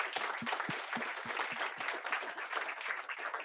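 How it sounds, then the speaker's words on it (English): An audience at a tech founders meetup applauds steadily, a close, even wash of clapping with a few sharper individual claps standing out near the start. "let's give her an applause that you're here"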